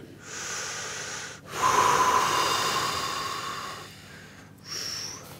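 During a workout exercise, a man takes heavy, forceful breaths close to the mic. There are three long rasping exhales and inhales, with short pauses between them, and no talking.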